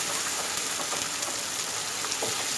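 Chopped onions sizzle and crackle steadily in hot oil in a pan while being sautéed for bread biryani, a dense continuous frying hiss close by with small pops scattered throughout.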